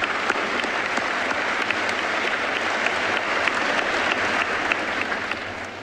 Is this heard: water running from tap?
no